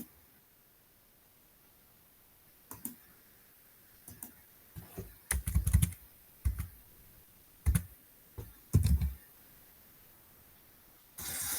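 A computer keyboard gives scattered clicks and clusters of short keystrokes, fairly close and clear against quiet background hiss.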